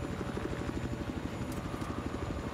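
A military helicopter in Battlefield 4 hovers with a steady, rapid rotor thump, the chopping pulse even and continuous at moderate distance, fairly quiet and alone.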